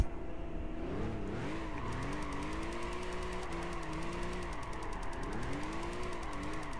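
A RUF CTR2 race car engine with a racing titanium exhaust in Gran Turismo 5 drones steadily and loudly, its pitch rising and dipping as it revs up and down through gear changes, with no talk.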